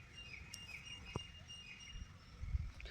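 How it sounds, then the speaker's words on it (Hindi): Birds chirping outside, a few faint, scattered high tweets and short calls at a distance over a low, rumbling background, with no talking. "पक्षियों की चहचहाने की आवाज़ आ रही है ना"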